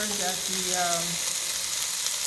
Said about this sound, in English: you can hear that nice sizzling